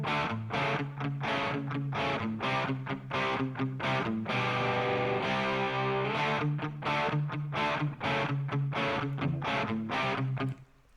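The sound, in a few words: AmpliTube 5 double-tracked guitars played together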